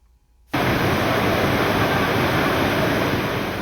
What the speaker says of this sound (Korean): 전남 구례의 수락폭포는 쏟아지는 물줄기로 유명합니다